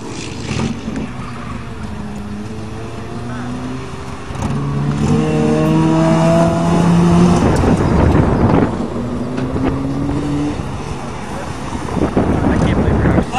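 Two five-speed Pontiac Sunfires with 2.2-liter engines racing off-road on a farm, engines revving and climbing through gears, loud and close, with wind buffeting and people talking over it.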